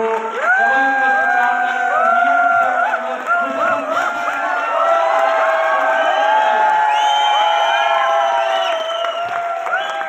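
A seminar audience applauds and cheers, with loud clapping, whoops and excited shouts that continue as a dense, steady crowd roar the whole way through.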